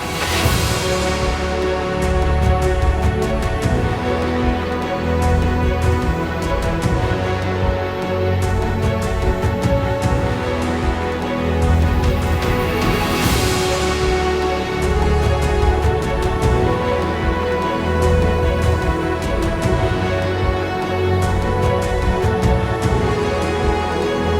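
A dense, loud melodic dubstep verse with heavy bass, layered synths and steady drums plays continuously, with sweeping risers building and falling back.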